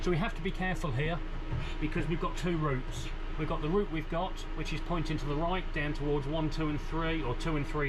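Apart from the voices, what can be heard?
No everyday noise stands out behind the speech.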